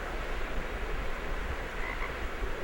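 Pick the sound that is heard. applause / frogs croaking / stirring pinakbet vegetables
frogs croaking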